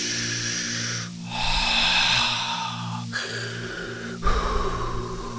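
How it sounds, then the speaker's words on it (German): A game character in the space-survival game Breathedge draws a deep breath, heard as a long airy inhale swelling then easing, followed by shorter breathy puffs, close and alone. "Jetzt nehmen wir erstmal einen tiefen Atemzug."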